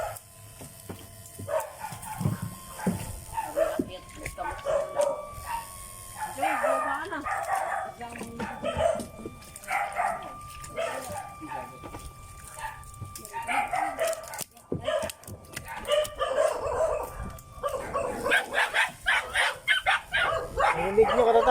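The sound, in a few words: small dog barking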